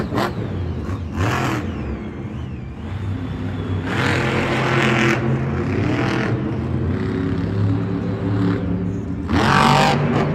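A monster truck at a Monster Jam event in San Antonio roars steadily and loudly as it attempts a backflip, with revving surges building and a sharper burst near the end.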